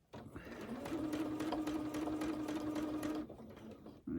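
A sewing machine free-motion quilting a quilt border hums in one continuous close run of about three seconds, with a steady needle rhythm and a faint tone, then stops.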